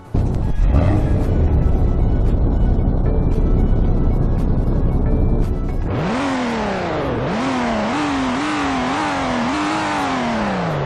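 A rear-wheel-drive BMW 3.0T M Performance engine in a driving video game, first idling with a low rumble, then revved hard in several rising and falling bursts that climb and drop in quick succession.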